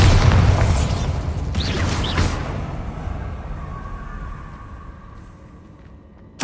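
Bombarda explosion spell in Hogwarts Legacy: a sharp magical blast with a burst of bright crackle, then a rumbling boom that decays over several seconds, loud and alone, ending with a faint click.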